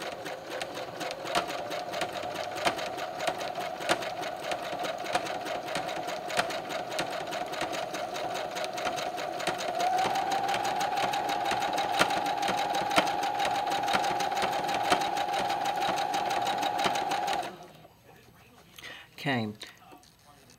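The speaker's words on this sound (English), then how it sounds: "using a zigzag stitch, we're going to stitch these together just like we did the sets of twos." A sewing machine runs a continuous zigzag stitch joining rug pieces, a steady close rattling hum that holds for about seventeen seconds before it stops and is followed by a few soft handling noises.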